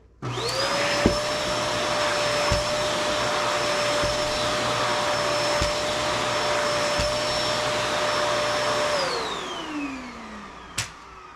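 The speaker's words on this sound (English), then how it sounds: "I'm going to actually turn the vacuum on so that you can see that the head still stays on with suction." A vacuum cleaner runs steadily with a loud, even whine and roar, then spins down near the end with a few soft knocks.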